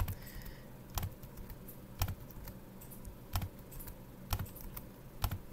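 Computer keyboard keys pressed while working in Inkscape: sparse, distinct clicks spaced about a second apart, some as quick double taps, close and quiet over a faint background hiss, with no talk.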